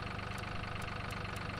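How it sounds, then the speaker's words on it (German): Deutz-Fahr Agrolux tractor in Farming Simulator 22, its engine idling in a steady, even low-pitched chug with a regular pulsing rhythm, heard alone at a moderate, constant level. "lassen wir mal den Motor an"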